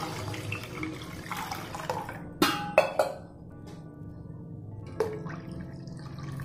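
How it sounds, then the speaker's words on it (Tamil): Water poured into a tamarind rasam mixture made with mudakathan greens, with a steady low trickle and a few sharp clinks of a vessel at the rim, close and without talk. "இப்போ தேவையான அளவு தண்ணி விட்டுக்கலாம்."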